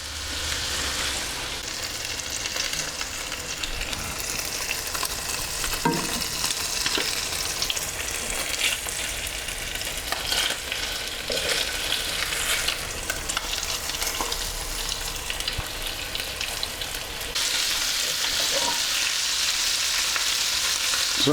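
Salisbury steaks browning in a frying pan make a loud, continuous sizzle and spit, with a few faint clinks partway through and a brighter surge of hissing near the end.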